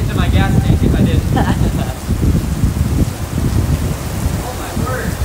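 Heavy rain from a derecho thunderstorm in Illinois pours loudly and steadily on a parked vehicle, with gusting wind and people talking over it.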